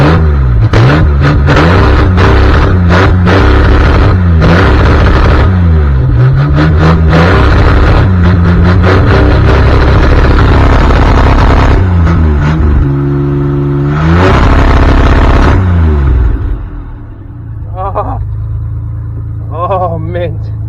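A 1990s Ford truck engine revs and clatters loudly, then settles into a lower, steady idle toward the end, with a voice talking intermittently.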